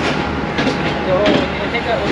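Fareed Express passenger train running on a branch line in Pakistan, a steady rumbling roll with faint clicking wheels, heard from on board with some voices under it.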